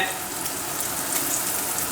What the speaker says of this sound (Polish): Możemy szybko smażyć rybkę.